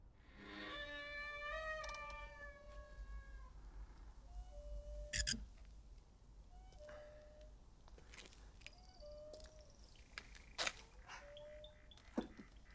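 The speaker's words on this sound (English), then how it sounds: "A creaky windmill" A creaky windmill groans with long, rising and falling squeals and metallic creaks, repeating slowly over a low wind-like rumble, fairly faint and alone.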